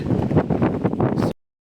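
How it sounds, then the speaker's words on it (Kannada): Wind buffets the microphone on a hilltop at Siddara Betta, a loud, steady rush for just over a second before it cuts to silence. "ಗಾಳಿ ಇದೆ"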